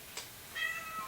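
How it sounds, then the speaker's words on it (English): A cat meows in short, loud cries, with a faint call near the start and a sharper burst at the end, close to the microphone with no talking. "my cat losing his mind"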